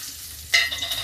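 Garlic and cumin seeds drop into hot oil in a pan with bay leaf, black pepper and cloves, bursting into a sudden loud sizzle halfway through that keeps crackling; no talk.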